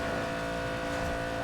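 A car accelerating hard uphill, its engine note steady and loud throughout with a continuous close drone and no voices.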